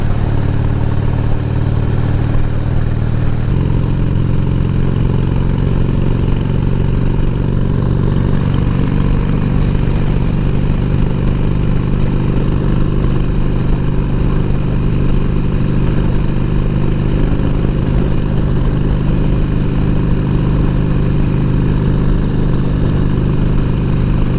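A Harley motorcycle engine runs steadily at close range, a loud continuous mid-pitched rumble with a slight change in tone partway through, and no voices over it.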